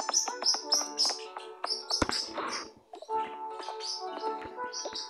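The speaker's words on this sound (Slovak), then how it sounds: "vo videu si nevšímajte zvuky môjho vtáka a mojej sestry vtáka" Pet birds, including a sister's bird, chirp and tweet in rapid repeated high calls close by, filling the whole stretch with only brief pauses and a soft rustle in the middle.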